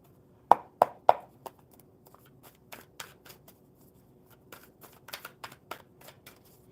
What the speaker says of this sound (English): one more super good shuffle